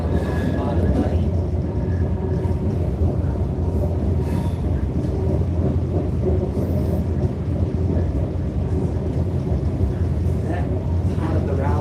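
A train runs on the Port Dock railway line during its first service, a loud, steady broadband rumble that holds unbroken throughout, with voices faintly underneath.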